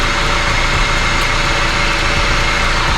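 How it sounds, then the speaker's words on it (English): A Honda K-series engine in a 2003 Honda CR-V idles steadily and smoothly after an oil change, a continuous low hum with a faint high whine, close by and with no talking. "It's running so quiet, guys."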